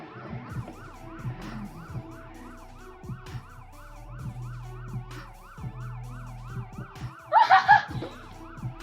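A wailing police siren in a video game sweeps up and down repeatedly over a low engine rumble, with a brief burst of laughter near the end.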